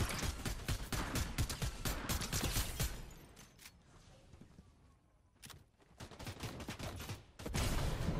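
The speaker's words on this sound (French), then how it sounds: "Ça nous a tiré dessus." Rapid bursts of gunfire fill a Fortnite match, with dense volleys of shots at the start, a quieter lull with scattered cracks, then more fire at the end.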